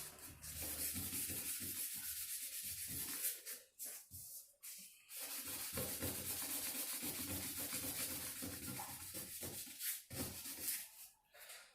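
Steady, close rasping of sandpaper rubbed over wood, a continuous scratchy hiss with a few brief pauses between strokes.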